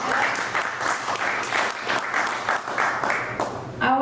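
Audience applause in a comedy club, dense steady clapping from a crowd filling the room for a few seconds, with a brief voice cutting in at the end.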